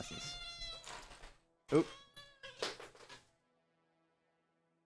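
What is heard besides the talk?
cats meowing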